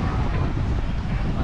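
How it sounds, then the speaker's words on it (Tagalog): Strong wind blows in off the sea along a coastal bike-tour stop in Panay, a steady loud roar buffeting the microphone with no break. "lakas ng hangin from the sea"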